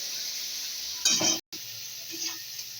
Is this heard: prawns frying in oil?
yes